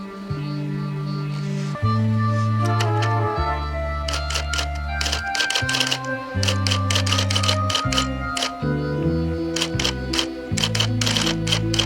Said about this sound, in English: she sits down at the typewriter